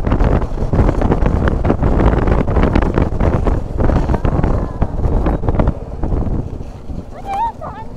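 Cold wind rushes past a motorbike rider on the road, a loud continuous buffeting roar across the microphone with a voice talking under it and a brief high whistle near the end.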